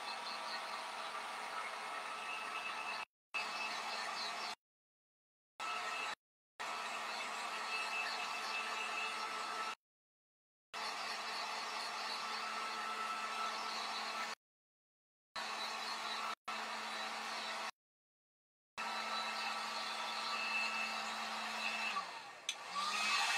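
A hair dryer blows steadily to dry ink on a piece of home decor, a continuous close whooshing hum that cuts out briefly several times and restarts.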